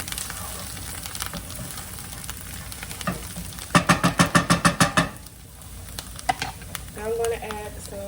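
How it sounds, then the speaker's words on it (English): Chili crisp sizzles in a pan for creamy onion pasta, a low frying hiss broken by a quick run of rhythmic scraping stirs, then a brief softer sizzle. "So I'm adding the chili crisp in."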